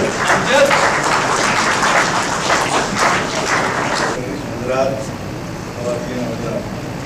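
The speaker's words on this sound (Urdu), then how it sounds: "آپ کی بہت سی تالیاں راؤ رشید" An audience applauds at a book launch for an autobiography, a bright burst of many clapping hands for about four seconds that then drops away as a voice begins speaking over quieter room noise.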